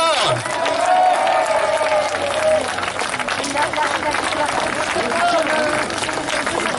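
Applause swells again from a crowd at a street protest, continuous clapping and shouts of approval filling the air, loud and steady with voices underneath.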